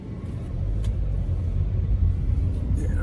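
A car coming along Chino Hills Parkway near a Buddhist temple, a broad low rumble of engine and tyre noise that rises quickly and stays loud and close throughout.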